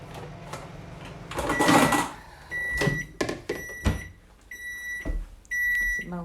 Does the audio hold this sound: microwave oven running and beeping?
yes